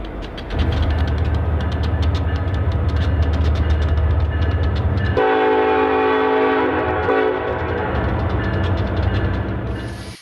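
On an N-scale model railway layout, a heavy mixed freight train rumbles steadily close by, and a loud horn blast sounds midway through before the low engine drone continues as it arrives.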